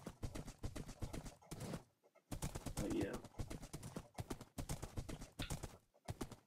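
Horse hooves clip-clop in the video game Minecraft, a steady run of light rhythmic hoof steps near and loud, with a short gap in the middle, mixed with faint game bird sounds.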